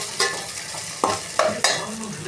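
Ingredients for a Tamil fish kulambu sizzle softly in a pan while a spoon stirs and scrapes, with a few sharp clanks against the metal.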